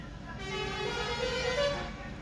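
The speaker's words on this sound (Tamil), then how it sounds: "ஹாரன்" A loud, steady lorry horn blares for about two seconds over road and engine noise, close by, from a truck hauling cement between Kochi and Coimbatore.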